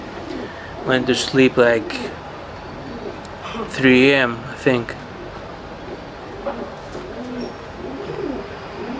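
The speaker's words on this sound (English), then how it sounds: "We have some pigeons here keeping us company." Pigeons coo near the sea in a few close, loud, warbling bursts, with someone talking quietly at the same time and a faint outdoor background underneath.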